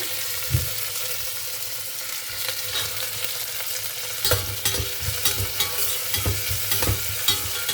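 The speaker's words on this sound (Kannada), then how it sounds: "ಮೀಡಿಯಮ್ ಫ್ಲೇಮಲ್ಲಿ ಇಟ್ಕೊಂಡು ಫ್ರೈ ಮಾಡ್ಕೋಬೇಕು" Soaked peas fry in ghee over a medium flame, making a constant crackling sizzle with frequent spoon scrapes and knocks against the pan, busier toward the end.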